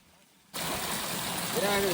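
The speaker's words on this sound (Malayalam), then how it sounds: "ഈ പൂള് ഇങ്ങനെ വെള്ളം ഒഴുകി വെള്ളം അടിച്ചുകൊണ്ടേ ഇരിക്കുക കേട്ടോ" Water flows and splashes steadily into a kids' pool at a hut lodge in Kruger National Park, South Africa, a close rushing wash that starts abruptly after a brief quiet, with a faint voice near the end.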